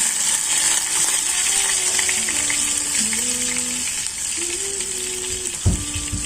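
Garlic sautéing in hot cooking oil for spicy Korean noodles, a steady close sizzle with a hissing wash throughout and a brief clatter near the end.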